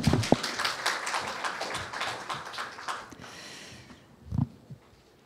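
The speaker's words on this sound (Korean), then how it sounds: "큰 박수로 맞이해 주시기 바랍니다" An audience at a climate technology forum applauds to welcome a speaker to the stage. A moderately loud burst of clapping thins out and fades, followed by a short thump and near silence.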